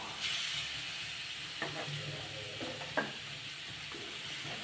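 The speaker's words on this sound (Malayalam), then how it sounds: "അപ്പം ഞാൻ അതിലേക്ക് തേങ്ങ ഇടുക കേട്ടോ." Grated coconut sizzling in oil in a pan over low flame, a soft steady frying hiss with a few light scraping stirs near the microphone.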